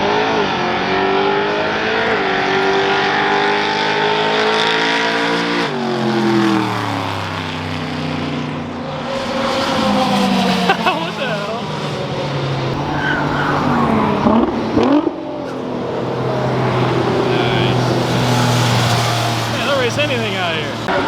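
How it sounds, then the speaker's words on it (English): Race cars roar at a drag strip, a loud, continuous engine wail with rising and falling revving pitch and tire noise, while voices mix in underneath. "you can see the drag strip running behind me"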